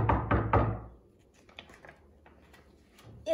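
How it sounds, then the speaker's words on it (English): Several firm knocks on a door come in a quick cluster at the start, close and distinct, then fade into a quiet room with faint small noises. "Soon there was a knock at the door."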